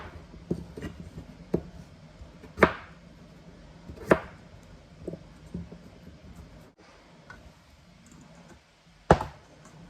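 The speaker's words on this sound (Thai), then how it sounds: "มันเทศมันฝรั่งก็หั่นเสร็จเรียบร้อยมาหั่นเนื้อต่อเลยนะคะ" Crisp knife chops cut sweet potatoes and potatoes on a cutting board at irregular intervals, a few sharp and loud, others softer, with quiet pauses between them.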